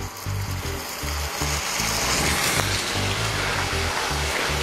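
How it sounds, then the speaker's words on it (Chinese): Olive oil hisses and sizzles loudly in a pan on a lit stove as a dish of soybeans and onions is started. The dense, continuous crackle sounds close and carries on without a break. There is no talking. "首先呢，我要开火，然后呢，将锅中倒入橄榄油"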